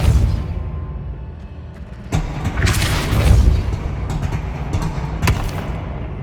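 Depulso spell effect in the video game Hogwarts Legacy, a whooshing magical burst with a deep thump that swells and rumbles, followed by lingering low energy and a sharp impact near the end.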